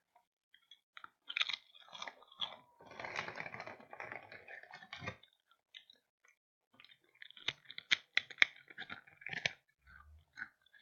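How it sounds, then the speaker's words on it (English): Crunchy chewing of potato chips close to the mic, in irregular bursts with short pauses, loud crackly bites interspersed with quieter mouth sounds. "Freaking potato chips are so good. I'm just gonna eat a ton. Sorry if you hear chewing."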